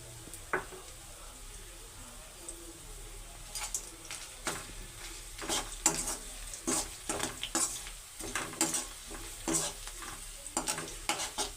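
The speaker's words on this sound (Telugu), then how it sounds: "ఉల్లిపాయ పచ్చిమిర్చి అయితే వేగిపోయినాయి దాంట్లోకి బిర్యానీ ఆకు అయితే వేసుకొని వేయించుకున్నాం" Onion, green chilli and bay leaf sizzle gently in a pan while a spoon stirs them in repeated scraping strokes, fairly quiet and close.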